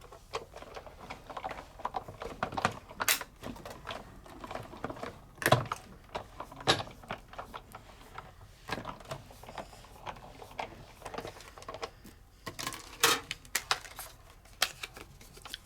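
Paper being run through a die-cutting machine with simple and basic dies, heard as a fairly quiet, steady run of crisp ticking and clicking contacts with a few louder snaps, and no talking.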